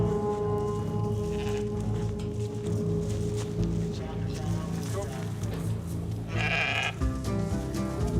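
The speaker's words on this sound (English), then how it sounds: "The sheep end up coming right out of the trailer like nothing ever happened." Sheep bleat from a trailer over a steady, noisy background hum, with a louder bleat near the end.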